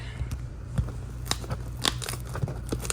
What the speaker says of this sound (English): let's get this cut open and see what we find